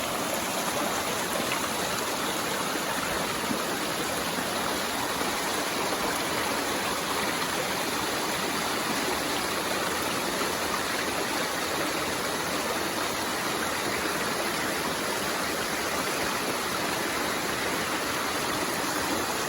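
Steady, full rush of a waterfall on the Appalachian Trail roaring continuously and close by, with no voices or breaks.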